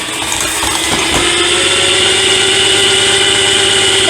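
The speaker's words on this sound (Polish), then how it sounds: "Mop się rozkręca, nie wiem czy słyszycie silnik." The small electric motor of an Einhell CLEANEXXO 18V cordless spin mop spins up and settles into a steady, loud whir, running continuously at close range.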